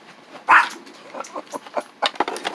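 Several dogs and puppies barking and yipping outdoors, a sharp loud bark followed by a run of shorter, softer yips and whimpers in quick bursts.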